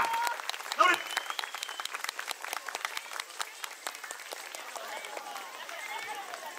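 Outdoor crowd applause after a finale group dance at a Tochigi yosakoi festival, scattered claps of moderate loudness rising briefly near the start and continuing steadily, with some voices mixed in.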